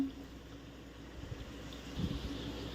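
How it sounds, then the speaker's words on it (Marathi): Pumpkin puris for traditional gharge fry in hot oil, making a soft, steady sizzle with faint bubbling swells, close and quiet, with no talking. "आपल्याला हे पुरी तळून घ्यायची आहे"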